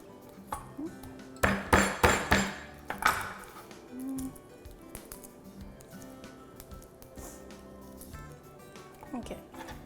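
Garlic cloves are crushed in a kitchen, a quick run of several sharp, loud knocks and clinks, followed by quieter rattles of utensils while someone talks.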